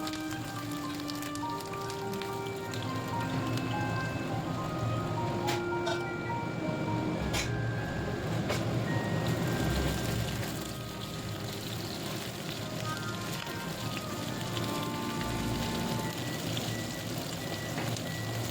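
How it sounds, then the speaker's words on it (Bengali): Pieces of cut eggplant fry in hot oil, giving a steady, dense crackling sizzle that runs unbroken for the whole stretch with no talking. "তেল গরম হয়ে গেলে প্রথমেই ভেজে নেব আমাদের টুকরো করে রাখা বেগুনগুলি"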